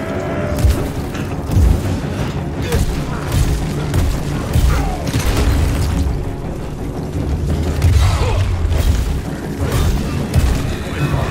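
Bombs blast repeatedly in the Evil West video game, heavy booming explosions amid constant clanking combat noise, loud and dense throughout.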